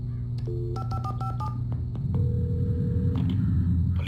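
Telephone keypad tones dial a short series of quick beeps in the video game Alan Wake, followed by a longer tone over a low rumbling background.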